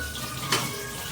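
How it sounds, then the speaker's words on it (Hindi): Tap water runs steadily into a kitchen sink while vegetables are rinsed, a continuous hiss with a brief splashy surge midway; no voices. "किचन में आके मैंने सब्जियों को धुल लिया"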